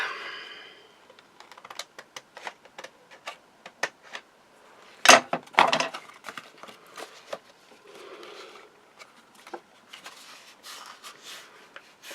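Scissors snip through craft card in a string of short, sharp clicks and cuts, close and quiet, with a louder rustle of card handling near the middle.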